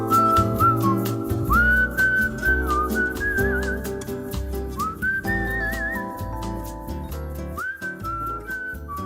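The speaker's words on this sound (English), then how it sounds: "Musical interlude for no other reason than to showcase my whistling skills." Whistled musical interlude: a lone person carries a wavering melody by mouth over a steady accompaniment, bright sustained notes gliding between pitches, loud and continuous throughout.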